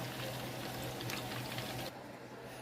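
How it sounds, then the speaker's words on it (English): Melted oil and butter pour into biscuit batter, a steady liquid trickle with a low hum beneath, running close and fairly quiet for about two seconds before fading softer. "now I'm going to start pouring in that oil and butter for nice buttery biscuits"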